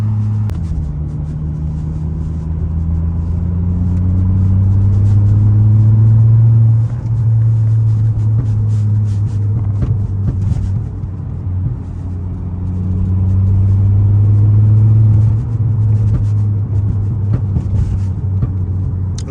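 A Volvo S40 T5 drives along with its engine and exhaust droning loud and close, rising through two long pulls with a dip between them, heard from the cabin with no talk over it.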